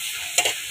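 Dal being fried and stirred in a pot, with a short burst of sizzling and scraping that swells briefly in the middle of a soft, steady kitchen hiss.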